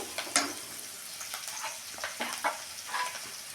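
Banana stem curry frying in oil with curry leaves in a pan, a soft close sizzle broken by several brief crackling bursts and stirring scrapes over a few seconds.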